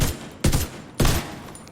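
A shoulder-mounted weapon in The Division 2 fires two sharp, loud, close bursts about half a second apart, each decaying quickly, with no speech.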